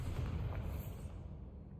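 Bombarda spell blast in the Hogwarts Legacy video game, a low rumbling boom that swells and then fades out, faint and muffled.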